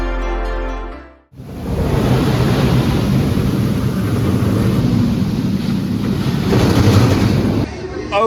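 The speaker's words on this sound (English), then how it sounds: "just got my first ride of the season and of the day on Sky Rush" Loud, steady wind roars past the front seat of the Sky Rush roller coaster at Hersheypark, the rush beginning abruptly after a brief quiet moment and holding almost unbroken to the end, with no voices.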